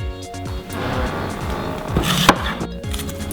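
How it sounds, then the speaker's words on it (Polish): Onion being chopped with a cleaver in a home kitchen, quick irregular knife taps on a board over background music, with one sharper knock near the end. "wracamy do krojenia cebuli"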